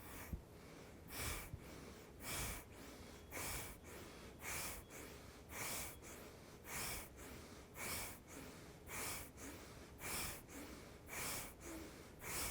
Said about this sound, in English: it's a sharp, powerful inhale, exhale through the nose